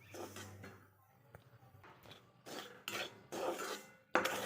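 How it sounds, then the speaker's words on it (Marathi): Semolina (rava) roasting in a pan as a spoon or spatula scrapes and stirs it, giving soft, irregular scraping strokes that get louder toward the end, with one sharp clink near the close. "आता रवा पण छान भाजून घ्यायचा आहे."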